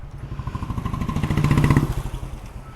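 A motorcycle engine on a food delivery ride runs close and loud, its rapid pulsing putter swelling slightly in the middle and easing off again.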